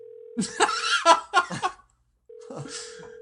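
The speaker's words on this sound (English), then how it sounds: "What is that, the phone?" A telephone sounds with a steady electronic ringing tone that runs under talk and laughter, breaks off briefly, then starts again.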